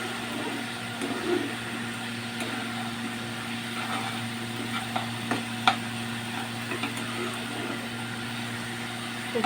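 Lentils for a gourd dal being stirred and dry-fried in a pan, giving a steady low sizzle broken by soft, irregular scrapes and taps of the spoon, close and fairly quiet with no talking.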